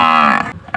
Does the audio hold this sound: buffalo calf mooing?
yes